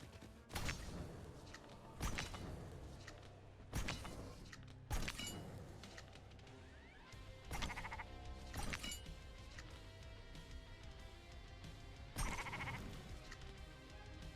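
Sheep bleating in a fantasy strategy video game, several loud bleats spaced a second or two apart over a steady game music and effects bed, with no talk.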